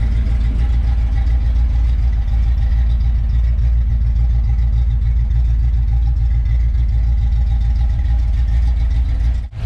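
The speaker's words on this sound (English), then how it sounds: "As you can tell, the car sounds completely different." Car engine idling with ignition timing set to 8 degrees, a deep, steady low rumble with an even pulsing rhythm that runs unbroken and loud for nearly ten seconds before cutting off.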